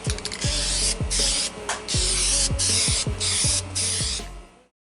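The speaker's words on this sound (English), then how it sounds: "shake it up and get ready to spray it" Bursts of spray paint hissing from an aerosol can onto an Infiniti FX35 side mirror during an LED turn-signal install, several short sprays with pauses between them, close and loud over a background of music.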